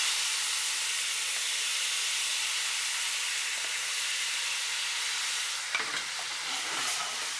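Sauce sizzles in a very hot, empty pan with a bright, steady hiss that continues throughout, broken near the end by a short stirring scrape and some brief crackles.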